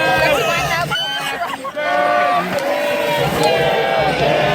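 Baseball fans in a stadium in Busan chant and cheer together in loud, rhythmic, sing-song waves, with a brief dip before the massed voices swell again.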